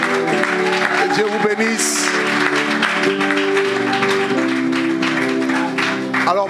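An audience at a church seminar applauds with steady clapping that runs throughout, under a speaking voice and some musical tones.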